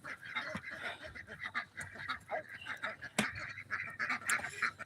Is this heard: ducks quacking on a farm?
yes